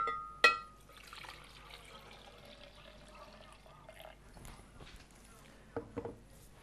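Pineapple pieces and water go into a blender for a pineapple shake, a sharp knock followed by soft liquid pouring and sloshing, with a few clunks near the end.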